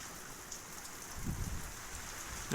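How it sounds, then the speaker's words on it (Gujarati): Faint, soft patter of light rain beginning to fall, a gentle steady hiss with a low rumble in the middle. "ધીમે ધીમે શરૂઆત વરસાદની થઈ ગઈ છે હાલમાં"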